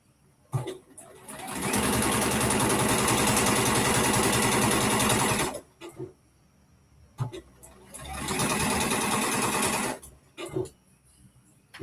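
Sewing machine running gathering stitches on a top, two long steady bursts of rapid mechanical whirring, each several seconds long and separated by a short pause with small clicks, close and loud.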